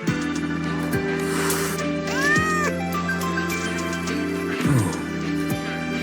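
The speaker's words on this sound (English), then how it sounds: "It doesn't seem to be a cat registered with the academy." A frightened cat in the video game Wuthering Waves meows and caterwauls in several drawn-out, rising cries over a few seconds, close and fairly clear against a quiet background.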